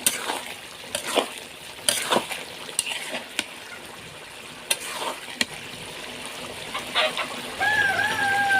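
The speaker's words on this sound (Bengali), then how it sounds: "আর এই যে লাউটা আমি কষাচ্ছি" Bottle gourd stir-fried in a pan for a koi fish curry, a soft continuous sizzle under repeated spatula scrapes and taps against the metal, close by, with a brief higher squeak near the end.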